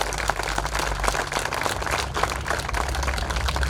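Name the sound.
applause for sponsors at a mural dedication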